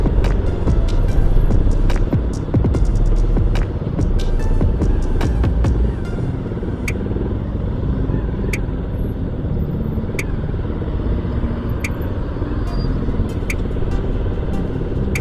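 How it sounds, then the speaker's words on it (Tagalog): Steady road traffic at Lungos, with cars and motorcycles rumbling past in a continuous low drone, close and fairly loud, with no voices. "traffic na naman dito sa may Lungos"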